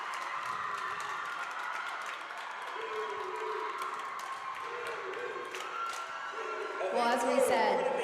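A crowd cheers and applauds a perfect 10 score at a college acrobatics and tumbling meet between Quinnipiac and Limestone; steady clapping and shouting build louder near the end.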